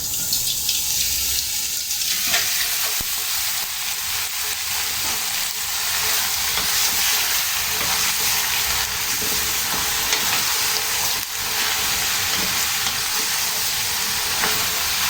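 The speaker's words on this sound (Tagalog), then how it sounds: "Igasa natin sa sarili niyang mantika." Pork sizzles and crackles steadily in its own hot fat, a dense continuous frying hiss with occasional pops, close and loud throughout.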